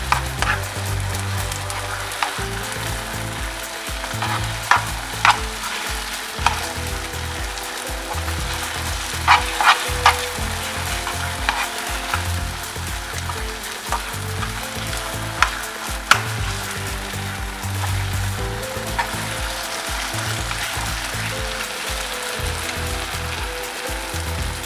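Halwa frying in oil and clarified butter, stirred with a spoon in a steady loud sizzle, with regular scraping strokes and occasional clinks of the spoon against the pan, no voices.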